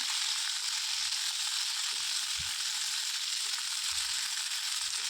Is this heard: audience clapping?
no